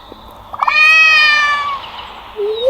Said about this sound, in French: Miaou, miaou, miaou, miaou, miaou, miaou, miaou, miaou